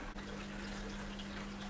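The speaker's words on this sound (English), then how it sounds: "Drain out number 3 is now happening and the water's coming out a lot clearer." Water draining from a Hotpoint washing machine during a drain-out after a rinse, a steady low rushing flow with a constant pump hum, unbroken and moderately loud throughout.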